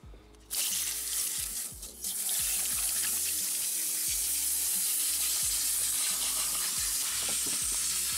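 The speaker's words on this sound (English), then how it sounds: "So I'm just going to hose this off." Water from a hose sprays hard into the wet footwell of a Vauxhall Corsa, starting with a brief burst and then running as a loud, steady close splashing rush, with no voices.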